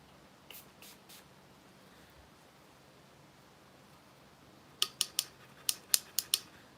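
Makeup brush cleaner sprayed from a pump bottle onto a makeup brush, a quick series of about seven sharp, close spritzes in the last two seconds after a stretch of quiet rustling.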